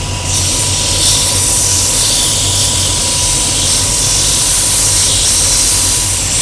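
A shoe repair machine grinds down a hard-wearing Vibram sole, giving a steady, loud, continuous mechanical whir and roar with a bright hissing abrasion that barely varies throughout.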